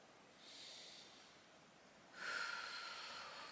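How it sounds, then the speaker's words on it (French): Slow, audible breaths during a Pilates back and stretching session: a soft inhale, a pause, then a stronger, longer exhale, close and quiet with no talking. "Refais 5 respirations tout doucement."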